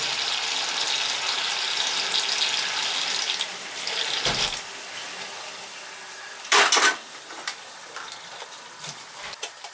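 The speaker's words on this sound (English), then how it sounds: "I turned the water on!" Water running from a household tap just after the supply is turned back on following a whole-house water filter replacement: a steady hiss of flowing water that softens midway, with a few sharp clanks and knocks near the sink.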